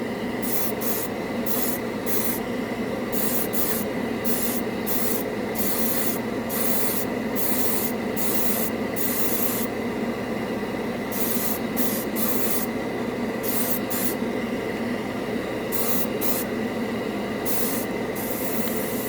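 An airbrush sprays yellow paint over red primer in a steady, close, continuous hiss, broken by brief regular pulses and pauses as the trigger is worked. Nobody speaks.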